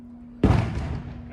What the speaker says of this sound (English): Now we got idiots throwing fireworks.